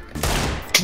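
Gunfire in the video game CS:GO, a short burst of loud rapid shots packed close together within a second, with a final sharp crack at the end.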